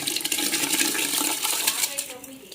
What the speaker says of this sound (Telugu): మనం కడిగి పెట్టుకొని నానబెట్టుకున్న బియ్యాన్ని వేస్తున్నాము